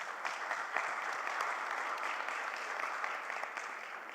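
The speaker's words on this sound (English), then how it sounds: "please help me in thanking them by a little round of applause for our panelists" Panelists at a water governance session receive a soft, distant round of applause: dense, continuous crowd clapping that stays even and low in level throughout.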